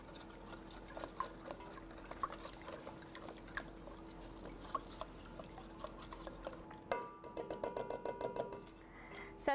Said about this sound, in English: And then we're going to whisk it together.